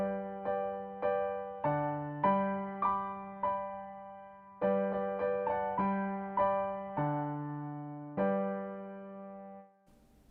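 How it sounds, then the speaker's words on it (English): Piano playing a hymn accompaniment for 'Nothing But the Blood of Jesus', with a single-note left-hand bass line beneath the melody; struck notes fall at a steady, unhurried pace, clear and close, with no voices. "Pattern number 1, single note bass line."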